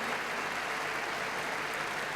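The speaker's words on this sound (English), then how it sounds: "Daley, European champion, greeted by the British in this crowd" A British-leaning stadium crowd applauds the decathlon winner, a dense, steady wash of clapping heard close and continuous with no break.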